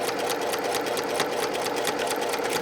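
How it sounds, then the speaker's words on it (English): A sewing machine runs steadily, stitching a short seam while the needle keeps a fast, even rhythm, close up on a fabric sunglasses case. "you're going to sew down just a little bit"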